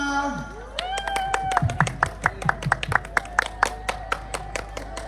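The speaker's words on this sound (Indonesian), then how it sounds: "Tepuk tangan yang meriah buat Danau Toba" School audience clapping for class XI Danau Toba at a co-curricular competition, a string of sharp distinct claps with a voice speaking over the start.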